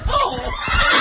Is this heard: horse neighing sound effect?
yes